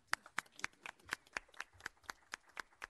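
Audience clapping at a town council meeting, about a dozen crisp, evenly spaced claps in a steady rhythm, fairly faint and close, with no talk over them.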